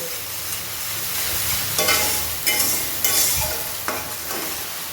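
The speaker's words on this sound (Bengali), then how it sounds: "পেঁয়াজটা দিয়ে কিছুক্ষণ কষিয়ে নেবো" Ground onion paste fries and sizzles in a pan for a Bengali boal fish curry, with a steady hiss under several close scraping stirs spaced through the stretch.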